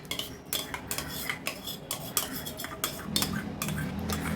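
A spoon stirs whisked curd into cooked rice for curd rice, making repeated close clinks and scrapes against the bowl in an uneven rhythm.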